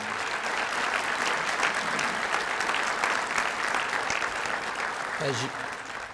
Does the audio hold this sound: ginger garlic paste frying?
no